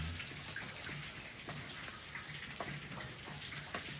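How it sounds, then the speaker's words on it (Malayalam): Rain falling steadily outdoors in Malawi, a continuous soft patter with scattered distinct drops landing on surfaces, moderately faint and even throughout, with no voices. "മഴ മഴ ഇങ്ങനെ പെയ്യും"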